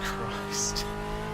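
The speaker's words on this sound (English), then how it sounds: "Spinning up the inside rear wheel." A classic Brazilian touring car in the Copa Classic racing game spins its inside rear wheel, the engine humming steadily as a brief high tire squeal cuts in midway, with a voice speaking over it.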